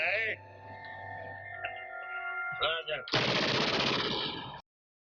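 Gunfire from the 1970 film Beneath the Planet of the Apes, with tonal film audio and voices giving way to a sudden, dense burst of rapid machine-gun fire lasting over a second before cutting off.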